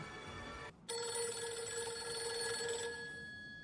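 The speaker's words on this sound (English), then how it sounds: "This is the first time the TARDIS phone has ever rang." The TARDIS telephone from Doctor Who rings with a bright, steady electronic bell tone, loud and alone, after a brief break near the start and continuing to the end without any voices.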